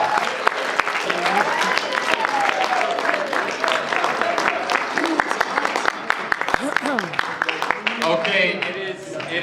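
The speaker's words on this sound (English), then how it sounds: "give them all one more round of applause" Loud, dense applause from an indoor audience at a school presidential debate, sustained clapping with a few cheers and voices mixed in throughout.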